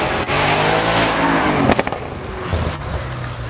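An Audi RS6 with a twin-turbo engine roars past at a supercar event, its loud revving note swelling and then fading as it passes close by, with a brief sharp burst midway.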